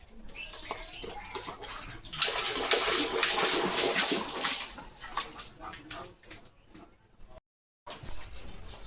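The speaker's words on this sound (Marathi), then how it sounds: "पाणी खेळतो, स्वतःच्या अंगावर उडवून घेतोय." A German Shepherd plays in water on a hot day, splashing it over itself with sustained, close splashing and sloshing, then fainter intermittent splashes with a brief silent gap near the end.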